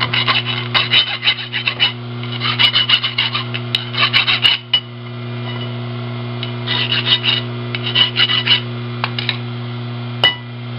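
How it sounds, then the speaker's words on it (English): Metal file rasping along the edges of a workpiece, close and loud, in quick bursts of back-and-forth strokes broken by short pauses, over a steady low electrical hum. "I'm going to have to file the edges down."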